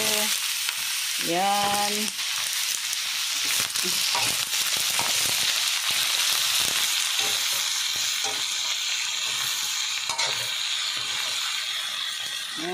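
String beans, squash and eggplant with green chili sautéing in a pan: a loud, steady sizzle runs throughout, with a brief voice speaking early on.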